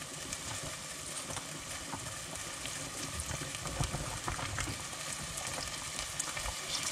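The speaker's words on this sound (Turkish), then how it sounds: "tavuk kaynıyor" A pot of chicken bubbles and hisses steadily at a rolling boil, close by, with a continuous crackling texture and no voices.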